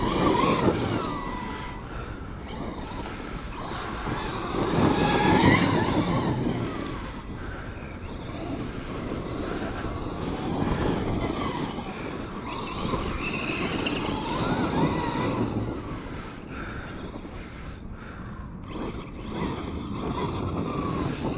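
A Kyosho USA-1 RC monster truck drives on dirt outdoors, with a fluctuating motor whine and gritty rumble that rises and falls over about twenty seconds, plus faint background voices.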